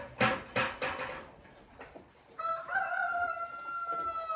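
A few sharp clucks give way to a loud, drawn-out rooster crow nearby, its harmonic call ringing clearly to the end.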